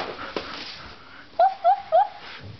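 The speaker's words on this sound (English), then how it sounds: "do you see that doggy?" A pet dog gives three short, high whimpering yips in quick succession, close by, after a stretch of quiet room noise.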